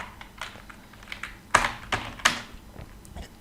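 Code being typed on a computer keyboard, with fast irregular key clicks and a few sharper, louder strikes, close and alone with no talk.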